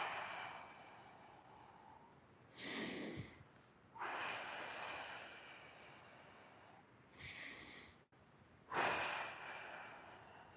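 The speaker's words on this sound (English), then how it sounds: "I like to do a spin and a breath," Deep breathing during a spinning breath exercise outdoors on a windy day: long, loud inhales and exhales spaced several seconds apart, heard close, with faint wind noise between the breaths.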